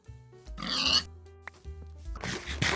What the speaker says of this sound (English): Go get these pigs over here.